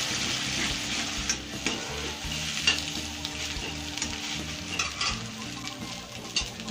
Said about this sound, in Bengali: ডিম ভেজে আমি তুলে নিচ্ছি